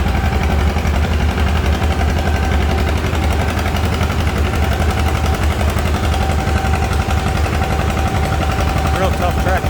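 An antique tractor engine roars steadily and loudly through a tractor pull at the Carroll County Fair in Milledgeville, Illinois, with a dense, continuous mechanical din and faint voices in the background.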